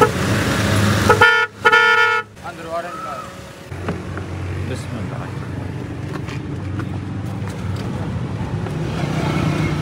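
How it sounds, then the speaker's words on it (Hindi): A car horn, tested after a repair on a horn that had failed again and a fuse fault, gives two short honks close by. Steady street and traffic noise continues underneath. "यहाँ से हॉर्न जो है वो दोबारा से चेक करवाएंगे इंशाअल्लाह"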